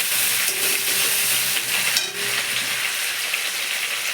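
Onions frying in a pan for a Bengali fish curry sizzle loudly and steadily, close up, with faint stirring scrapes mixed in and no voices.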